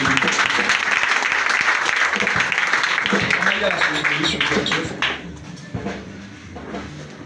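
A congregation at a prayer meeting applauds together, a dense, loud wash of clapping mixed with voices that thins into scattered claps over the final seconds.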